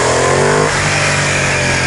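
A Ducati XDiavel S motorcycle engine revs hard in a second-gear roll-on, a loud, close, rising snarl whose pitch drops sharply partway through before the engine settles into a rougher, steady roar.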